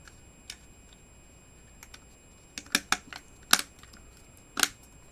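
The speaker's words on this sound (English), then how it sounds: "and it'll snap into place." Small plastic part of an Eaglemoss Back to the Future DeLorean scale model being pressed and snapped into place, a few scattered sharp clicks and ticks, faint and close, with quiet pauses between them.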